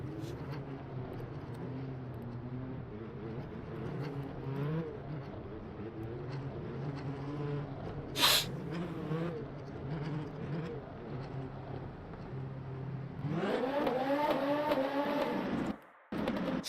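LMP2 race cars in the video game Le Mans Ultimate drone past with a steady, whining engine note that rises in pitch, capped by a sharp burst, then a louder, nearer engine swelling in near the end.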